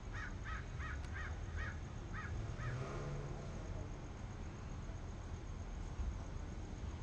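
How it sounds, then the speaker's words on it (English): Crows give a run of about seven evenly spaced caws outdoors, moderately distant, then fall silent against steady background noise. "the crows have a thing for me"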